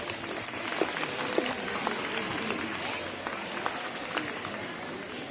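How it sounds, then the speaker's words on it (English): Applause from an audience at a school inter-house general knowledge quiz, dense and steady clapping sustained for several seconds under a continuous crowd wash, with a few voices mixed in. "Give a big round of applause."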